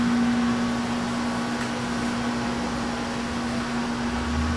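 A machine fitted with a boring bar runs with a steady, droning mechanical hum and a constant tonal whine, unchanging and fairly loud from start to finish.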